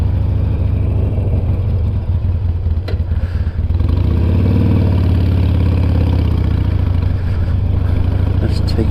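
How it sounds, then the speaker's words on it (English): A Harley-Davidson Sportster motorcycle engine idles steadily just after coming off the choke, a loud, close, continuous low rumble with a slightly uneven beat and occasional light clatter. "Taking the Sportster off the choke and wait for the coughers and the splutterers and everything else"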